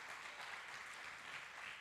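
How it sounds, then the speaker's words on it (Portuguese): A church congregation claps together in a brief, steady burst of applause that fills the room evenly from start to finish. "Você pode aplaudir ao Senhor por isso?"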